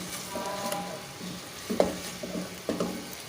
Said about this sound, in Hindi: इसकी अच्छे से भुनाई करनी, अच्छे से 1 से 2 मिनट भुनाई करेंगे।